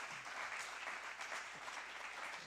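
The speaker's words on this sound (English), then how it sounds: "give applause again." An audience at an academic lecture on artificial intelligence in weather and climate claps after the talk, a steady wash of applause, faint and even throughout without voices.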